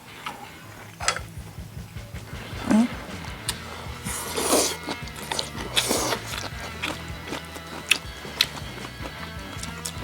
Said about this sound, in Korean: 갈비를 한번 뜯어 먹겠습니다.